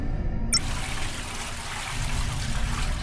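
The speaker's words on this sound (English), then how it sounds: "activate fire sprinkler" Fire sprinkler spraying water in the puzzle game Don't Escape, a steady hissing rush of spray that starts abruptly after a short click and runs on evenly without letup.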